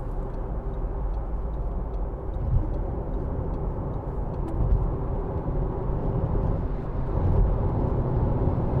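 A 2015 Audi A1 1.4 TFSI Sport S Tronic pulls hard at motorway speed, giving a steady low engine drone blended with road and wind noise from inside the cabin, with no distinct gear changes.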